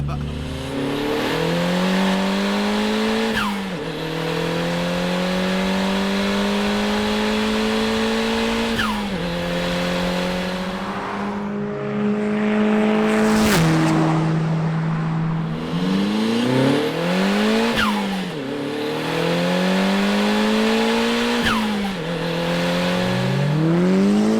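A Nissan Pulsar GTI-R engine revs hard while driving, climbing through repeated gear pulls with brief shift dips, loud and close from inside the car over steady road roar.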